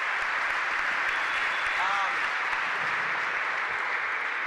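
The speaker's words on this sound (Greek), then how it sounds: "Χειροκροτήστε και αυτούς." An audience at a basketball coaching clinic applauds the coaches, dense steady clapping from a large crowd filling the whole stretch at an even level.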